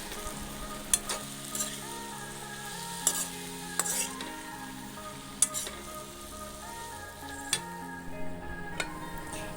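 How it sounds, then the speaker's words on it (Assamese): Lai greens frying in a pan with a few chickpeas for a simple vegetarian Assamese thali, steady sizzle under repeated stirring, with sharp utensil taps against the pan about once a second. "এয়া আমাৰ লাই শাকৰ ভাজিকণো হৈ গ'ল"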